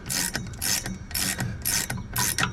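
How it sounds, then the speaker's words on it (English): A 5/8 ratcheting wrench tightens nuts on the upper shock mount of a 1980-1996 Ford Bronco or F-150, clicking in five quick bursts of ratchet ticks, close up and alone. "It's a 5/8. So I just got my ratcheting wrench."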